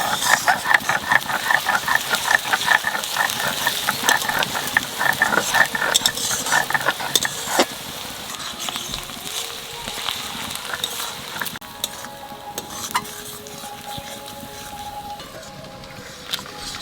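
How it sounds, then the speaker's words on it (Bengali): Onions frying in mutton fat in a pan, a steady sizzle under rhythmic scraping stir strokes that fade into a quieter hiss and clatter toward the end. "পেঁয়াজটা একটু ভাজেছি, এনে খাসির চর্বিটা পেঁয়াজের মধ্যে দিয়ে দেবো।"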